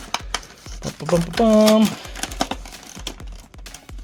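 Marvel Legends Amazing Spider-Man action figure box from Hasbro cut and torn open, with close crinkling plastic and cardboard clicks around a brief spoken word.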